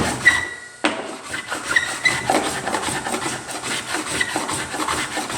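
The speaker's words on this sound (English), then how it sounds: "You scrape it off just like you did." A scraper drags old finish off a wooden panel with welded-in patches, close rasping strokes in an uneven rhythm, with a sharp knock near the start, loud and alone.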